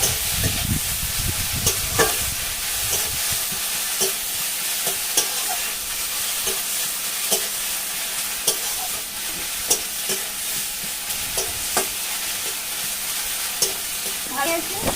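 Ginger and garlic stirred and sautéed with browned onions in a pan for a catfish curry, a steady close sizzle broken by repeated scraping strokes of a spoon across the pan, with no talking.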